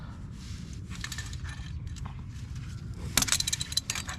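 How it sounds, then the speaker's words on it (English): A wrench slips off a bolt while fitting a transmission cooler to a supercharged Pontiac Bonneville SSEi, giving a sudden metallic clank and short jangling rattle near the end, over a low steady rumble of background noise. "That was just the wrench slipping off."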